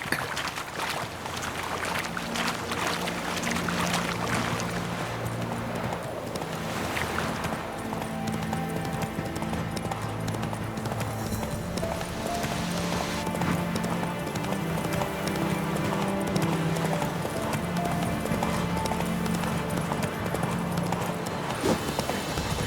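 Roach the horse trots in The Witcher 3, steady rhythmic hoofbeats clopping close by over an ambient bed of low music and environmental sound, with no pauses.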